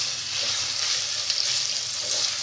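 Minced meat with salt fries in a hot pan, a steady dense sizzle with faint stirring ticks, close and unbroken throughout.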